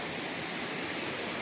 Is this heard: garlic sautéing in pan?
no